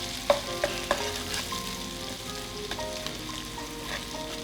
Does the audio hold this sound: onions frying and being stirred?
yes